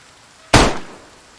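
A single close, loud Magnum revolver gunshot fired in the video game DayZ, alpha version .62, with a sharp attack and a short fading tail.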